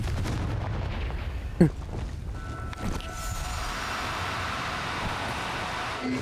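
Confringo fire spell in the video game Hogwarts Legacy, a single sharp blast followed by a smaller thud, then a lingering tonal hum under steady game ambience.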